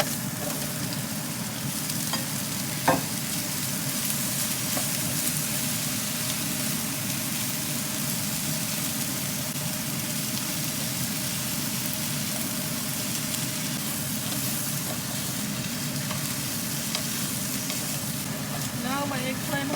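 Sliced pork and eggplant fry in a pan with a steady, moderately loud sizzle and crackle throughout, with a few faint utensil clicks and no talking.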